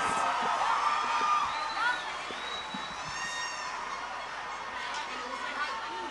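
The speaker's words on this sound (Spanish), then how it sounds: "ese aplauso es para ustedes" Live show audience at a school event cheering and whooping with loud crowd chatter, a dense continuous wash of voices and shouts throughout.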